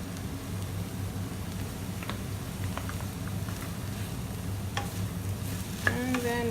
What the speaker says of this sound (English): And then we stir fry it in